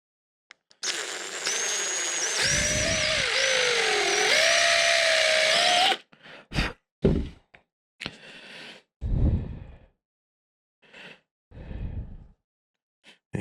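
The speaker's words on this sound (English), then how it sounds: "Drill a little hole in there." A power drill bores a small hole into a wooden snowman Christmas ornament, a steady close whine of about five seconds with a rising and dipping pitch, followed by short bursts and scattered handling noises.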